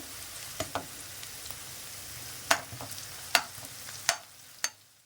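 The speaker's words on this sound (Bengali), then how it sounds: "এখন পেঁয়াজগুলো একটু হালকা লাল লাল করে প্রথমে ভেজে নিতে হবে" Onions fry lightly in a pan for an egg curry, with a steady low sizzle broken by several sharp stirring clacks and scrapes at irregular intervals, close by and without talk.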